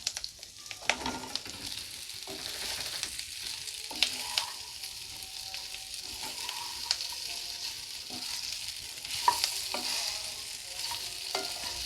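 Curry leaves and boiled kozhukattai dumplings fry in a pan for a pepper-cumin preparation, a soft sizzle under repeated spoon scrapes and clinks against the pan, close and fairly quiet.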